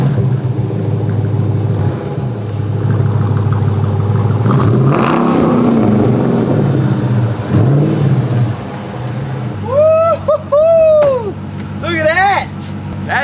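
A Dodge Challenger R/T engine hums and revs steadily as the car backs out of a garage into sunlight, with a rising surge midway and a voice briefly heard near the end.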